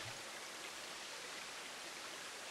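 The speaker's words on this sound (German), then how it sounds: "Ein riesiger Wasserfall hier hinten." Constant soft hiss of a large waterfall in the zoo-building game Planet Zoo, an even, unbroken wash of falling water heard faintly and alone.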